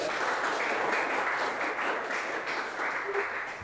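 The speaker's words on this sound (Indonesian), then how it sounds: "Tepuk tangan semuanya." A classroom audience applauds steadily, a dense wash of many hands clapping that holds at an even level for several seconds, moderately near.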